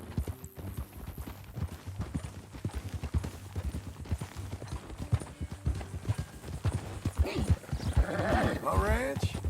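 Horse hooves clip-clop in a steady walking rhythm in Red Dead Redemption 2, close and continuous, with characters talking over the hoofbeats and a brief horse snort or whinny toward the end.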